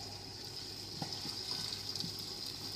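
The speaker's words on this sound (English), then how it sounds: "And add the water on top of it." Water from a boiled kettle pours steadily over lentil fusilli in a pot, a quiet, even gush with a few small splashes and clinks near the end.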